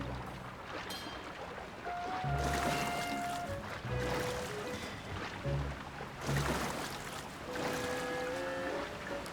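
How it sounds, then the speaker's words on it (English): Rushing water from a waterfall in the Eldin Region of The Legend of Zelda: Tears of the Kingdom, a continuous broadband wash that swells and recedes, with soft tonal game music notes drifting over it. "Got a waterfall."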